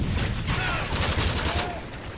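Rapid automatic gunfire from a hard-recoiling weapon in Modern Warfare 3, a dense loud burst of shots lasting a couple of seconds.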